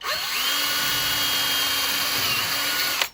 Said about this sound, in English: That's all the drilling over with.